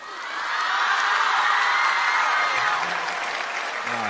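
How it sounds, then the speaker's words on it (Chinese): A television comedy audience applauds comedians arriving on stage, with the clapping swelling quickly into a full, dense round and holding steady. A few faint voices sound beneath it. "感谢大家的掌声鼓励啊"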